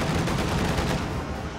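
Combat around a Soviet IS-2 heavy tank in Company of Heroes 2 crackles with rapid gunfire and bursts, loud and steady, easing slightly toward the end.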